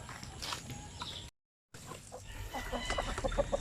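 Native breeder chickens on a farm cluck sporadically at moderate distance, with a brief silent dropout partway through and busier clucking toward the end.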